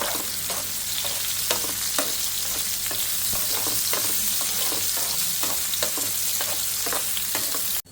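Vegetable pieces fry in hot oil with a dense, loud, continuous sizzle, while a utensil stirs them in short, repeated scrapes over the steady crackle.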